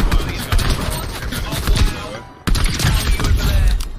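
Close, loud rapid gunfire in a video game, with dense volleys, a sudden drop to near-quiet midway, then another heavy burst, with a voice speaking partly under it.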